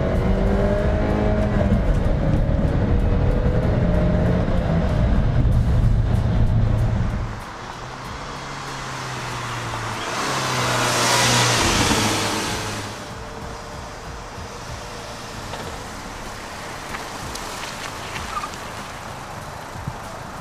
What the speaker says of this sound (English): Even though there's that funny ticking noise in the engine, once you really get on it, this thing goes.